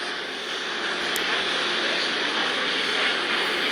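An airliner landing on a runway in an air traffic controller video game gives a steady, loud broadband roar of jet engine noise that holds at an even level throughout, with no talking.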